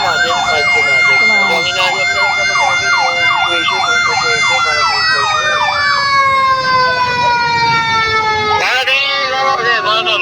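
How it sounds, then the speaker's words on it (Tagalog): Ambulance siren approaching a rescue scene in Pasig where a pedestrian was pinned, loud rising-and-falling wail shifting to a long steady tone, then a short burst, with voices and traffic underneath. "Ito na, parating na ambulansya."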